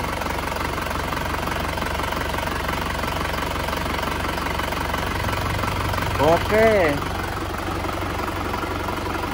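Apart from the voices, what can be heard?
Isuzu Panther engine idling with blow-by from broken piston ring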